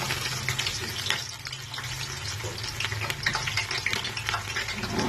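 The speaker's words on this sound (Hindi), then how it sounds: "अभी मैं इसमें प्याज डालूंगी।" Onions dropped into about two cups of hot oil in a cooking pot for chana pulao, a steady loud sizzle and crackle with stirring scrapes throughout.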